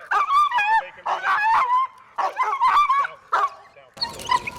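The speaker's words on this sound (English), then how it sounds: "So I can have him bark at somebody on command pretty much just by pulling his collar." A police K9 barks on command in short, sharp bursts, four loud close barks with brief pauses between them, followed by a rougher yip or whine at the end.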